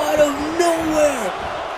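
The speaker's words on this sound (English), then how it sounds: "The crowd is on their feet." A WWE 2K16 wrestling match crowd roars steadily throughout, loud and continuous, with a commentator's voice over the top.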